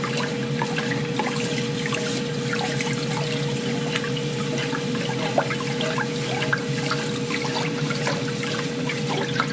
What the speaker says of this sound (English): it's easy to make rice. Just give it a good wash.